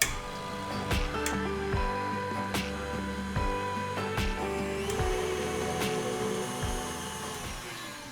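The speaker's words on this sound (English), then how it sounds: "Take your egg whites, start this on low, and then slowly increase the speed." An electric mixer whisks egg whites into meringue, humming steadily with regular rhythmic pulses and a few sharp clicks throughout.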